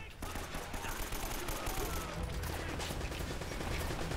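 Gunfire in Uncharted: Drake's Fortune, a dense continuous fusillade of shots and impacts with a rumbling low end, under game sound throughout, with a voice talking over parts of it.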